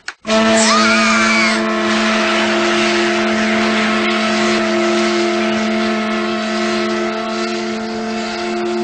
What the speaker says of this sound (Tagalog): Mapapatakbo pa natin ang makinang yan.